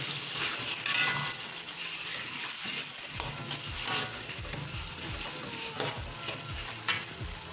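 Tomato puree sizzles steadily in a hot pan while a spoon scrapes and stirs it in repeated rhythmic strokes, close and clear, with no talking.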